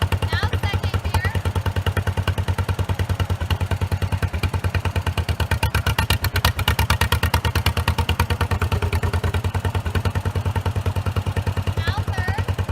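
A restored antique tractor engine runs in second gear with a steady, loud, rapid chugging beat, close by and continuous throughout, with some clatter riding on top.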